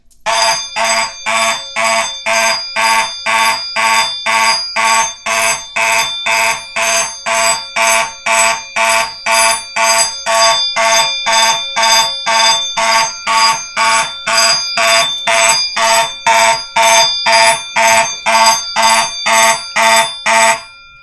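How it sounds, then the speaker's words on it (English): A fire alarm system set off from a Honeywell pull station sounds loudly and continuously, a rapid steady pattern of horn pulses repeating evenly for about twenty seconds with no talk. "let's activate one of these, and I'm thinking the Honeywell Pulse Station."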